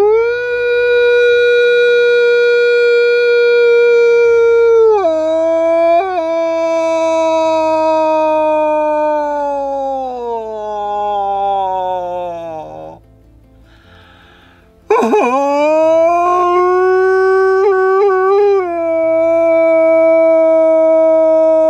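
A hunter imitates a wolf howl by voice to call wolves, long sustained wavering howls that rise and slide down, loud and close, breaking off briefly before a second howl resumes.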